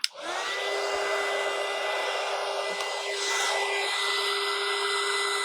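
A hair dryer blows to dry a poinsettia door hanger craft, switching on with a click and then running as a loud, steady whir with a constant tonal hum until the end.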